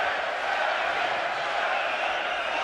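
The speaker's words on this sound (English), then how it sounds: "The crowd chanting for their Canadian hero" A large arena crowd at a boxing match chants for Canadian fighter David Lemieux, a dense, loud, sustained roar of many voices with no distinct words.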